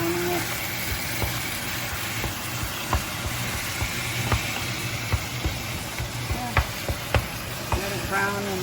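Ground beef browns in a pan for taco meat, a steady close sizzle with scattered pops and utensil clicks and a low hum underneath.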